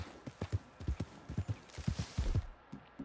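A personal horse in Red Dead Redemption 2 trots up with distinct clip-clopping hooves, a quick uneven rhythm of close thuds that settles as it arrives.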